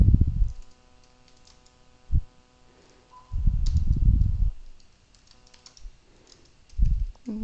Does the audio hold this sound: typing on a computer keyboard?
yes